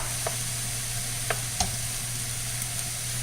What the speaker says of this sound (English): we're starting to get a little bit of juice down at the bottom of the pan, which is cooking the onions